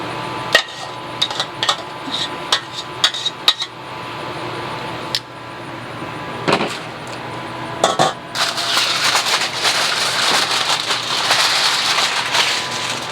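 Aluminum foil being spread out and handled while preparing smoked chile colorado tacos, giving irregular crinkling and crackling with sharp metallic taps early on, then a denser, continuous rustle in the second half.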